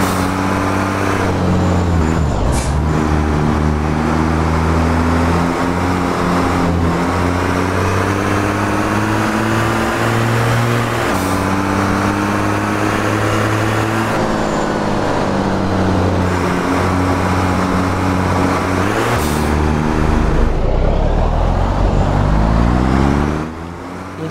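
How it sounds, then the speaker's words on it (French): Mercedes racing truck engine in the Assetto Corsa video game, a loud continuous diesel drone with rising and falling pitch as the truck accelerates and shifts, running steadily for the whole stretch. "profiter un petit peu du son du Mercedes, même si ce sera le même que le Volvo"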